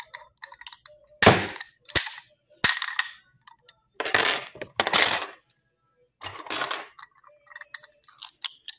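A butter knife whacking a bike lock, a series of sharp metallic clacks and rattling hits, some single and some in quick clusters, close and loud with silent gaps between.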